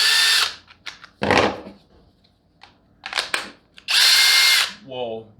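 Skil PWR CORE 12V power drill running in several short bursts of high whirring, loud and close, separated by pauses, with a brief spoken voice near the end.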